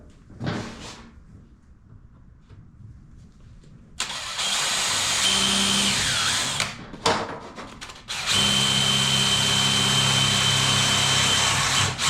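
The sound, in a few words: power drill drilling metal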